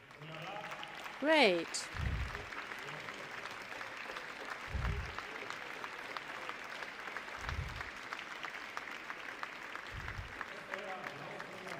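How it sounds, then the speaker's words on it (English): An audience applauds steadily for students from a media project at a Circular Valley demo day event, with a voice speaking over the sustained clapping. "I just wanted to that you receive this applause"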